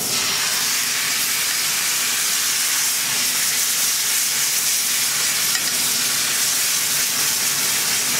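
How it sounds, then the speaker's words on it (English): Demi-glace sauce hits a hot pan with leftover residue from cooking coq au vin, giving a steady, loud, broad sizzle and hiss that runs unbroken with no talking. "I want to get this demi-glace in the pan now. Our demi is going in now."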